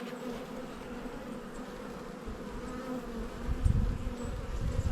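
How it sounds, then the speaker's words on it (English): Honey bees and trapped drones crowd a hive excluder in an Australian hive in spring, a dense close buzz of many insects that swells louder toward the end, with no voices. "Plenty of bees on the excluder. Look how many drones there are trapped up here."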